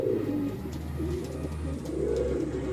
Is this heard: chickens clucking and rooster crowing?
no